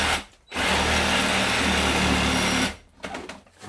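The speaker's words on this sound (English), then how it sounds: "The largest blade I could find in the Sawzall. So let's get rid of this wood." A Sawzall reciprocating saw fitted with a long blade buzzes loudly through wood in one sustained cut of about two seconds, stopping briefly before and after, with faint handling noise at the end.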